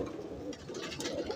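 High-flying pigeons coo softly and continuously, a low murmuring call heard fairly close against quiet surroundings.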